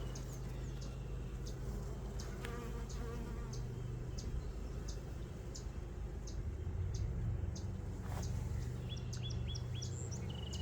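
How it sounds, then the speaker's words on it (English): Honey bees in an open hive buzz steadily in a dense swarm, with individual bees flying close past and faint bird chirps in the background. "let's see all the bees in here."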